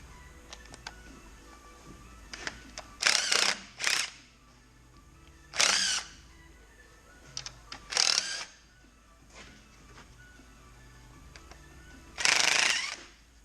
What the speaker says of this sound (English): We're going to use the impact.